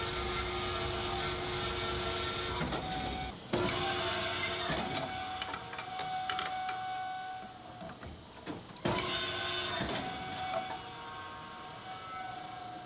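Mercury flathead V8 255 connecting rods being honed with honing oil give a steady, close mechanical whine with a constant hum, briefly cutting out twice before running again; no one speaks.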